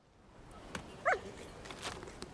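A dog in the video game Thaumaturge gives a single short bark, brief and moderately close against a quiet game ambience.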